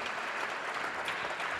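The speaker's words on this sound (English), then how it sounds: "that's worth a clap." Steady audience applause at an award event fills the space, a dense wash of many clapping hands at moderate volume with no talk over it.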